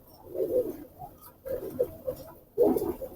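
A Teddy pigeon, a red-footed hen, coos close by in three separate throaty bursts spaced about a second apart, soft and alone with no talking.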